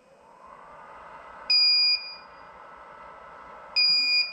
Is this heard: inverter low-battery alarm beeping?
yes